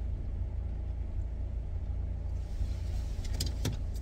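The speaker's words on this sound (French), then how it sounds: "Ma voiture, elle fume, un de ces quatre, elle va tomber en panne." An old car that smokes and seems close to breaking down runs with a steady, low engine rumble throughout. A few faint clicks and rattles come near the end.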